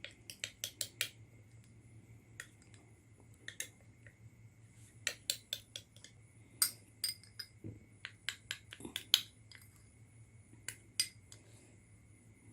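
Egg white being whisked in a bowl, a quiet series of light metallic clinks and taps in irregular clusters against a soft low hum, close and clear with no talking.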